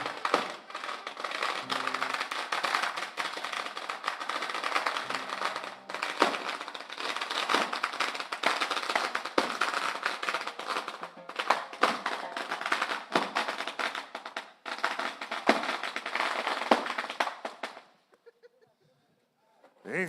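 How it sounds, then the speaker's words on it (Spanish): A long string of firecrackers goes off at a festival in Joyabaj, Guatemala, rattling in a rapid, dense crackle of loud pops for about seventeen seconds before cutting to near silence. "Eso, los cuetillos infaltables."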